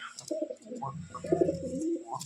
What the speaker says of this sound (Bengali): এই দেখো এক জোড়া শ্বেত পায়রা, এটা নর,